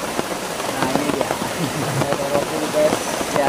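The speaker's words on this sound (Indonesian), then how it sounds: "Karena cuaca ini hujan deras" Heavy rain pours down steadily on a makeshift tent in a forest, a dense, constant hiss of drops on surfaces with occasional nearer patters, while voices talk faintly under it.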